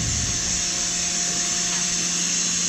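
Steady loud machining drone of a drill boring 2.5 inches deep into a 4140 steel vise jaw, a continuous whine with a high hiss and low hum, no talking.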